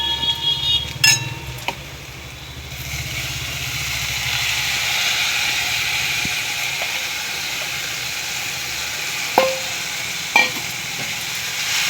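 Fenugreek leaves with green chillies sauté in a pan, giving a steady soft sizzle and hiss with occasional sharp clinks of a spatula stirring, no voices.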